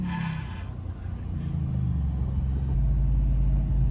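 A 950-wheel-horsepower four-wheel-drive Ford F150 launching hard, a loud deep engine roar and rumble that swells and intensifies as it pulls away, with no talking.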